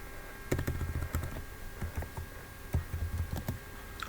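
Quick bursts of keystrokes rattle on a computer keyboard, clustered in short runs with brief pauses, close and moderately loud, with no talking.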